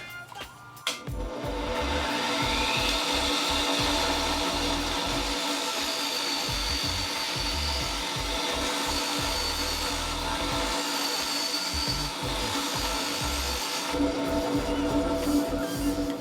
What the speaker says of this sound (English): So we're basically at the buffing wheel, and what I'm going to do is basically take a polishing compound